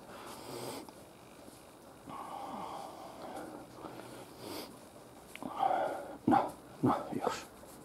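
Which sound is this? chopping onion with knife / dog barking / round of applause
dog barking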